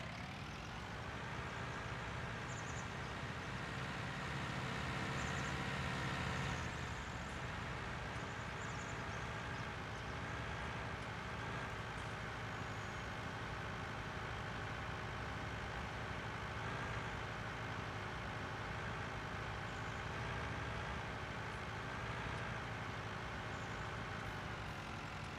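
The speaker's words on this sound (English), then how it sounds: "Let's put this tractor back over there" Tractor engine idling in the Farming Simulator 19 farming game on the Ravenport map, a steady, continuous low diesel drone with a brief louder swell early on, unbroken and without talk.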